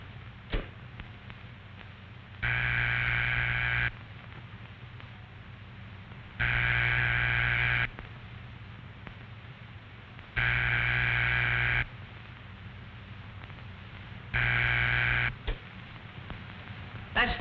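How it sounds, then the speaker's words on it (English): A dial telephone's ringing signal tone sounds in four even bursts of about a second and a half each, separated by longer pauses, over a faint hiss. "That's the ringing signal."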